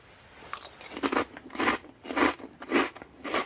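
Crunchy bites into Chicharron ni Manguan Especial Sucat chips, a spicy sour cream chili flavored pork crackling snack, up close: six loud, evenly spaced crunches with chewing between them and no talking.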